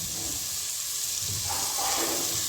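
Coconut milk poured over tomatoes in a hot pan for coconut milk rice, giving a steady close sizzle and hiss that swells briefly partway through, with no voices.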